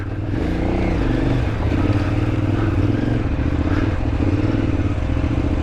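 A motorcycle being ridden uphill, its engine droning loud and close throughout with a steady throb and slight rises and falls in pitch as the throttle changes.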